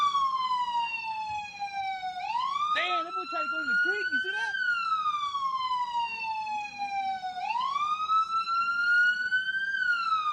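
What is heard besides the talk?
police sirens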